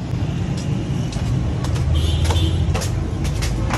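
Heavy road traffic of cars and buses, a steady close roar of engines and tyres with brief hiss bursts like air brakes, continuous for the few seconds with no talking.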